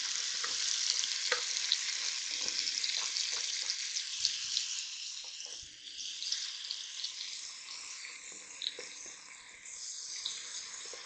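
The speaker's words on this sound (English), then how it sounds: "I'm going to add my onion in here with that bacon" Onion and bacon sizzle and fry in a pot, a steady soft crackle with occasional stirring clinks and scrapes, fairly quiet with no talking.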